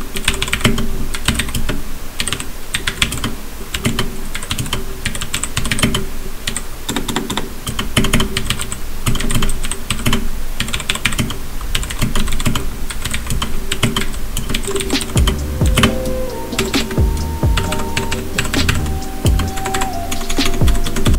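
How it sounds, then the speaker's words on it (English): Clicky mechanical keyboard fitted with Cherry MX Blue switches, typed steadily and loudly up close for about twenty seconds, a dense rattle of sharp individual key clicks with no talking. "it's really clicky, and as I said, it's because they're Cherry MX Blues, and those are usually louder than the rest"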